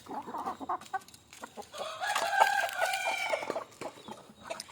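Free-range country chickens cluck busily while eating bran at midday feeding, with several birds calling over one another, sharp and close, and a short crow-like call rising in the middle.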